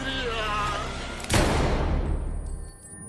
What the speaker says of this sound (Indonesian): Umut menembak orang itu tepat di kepala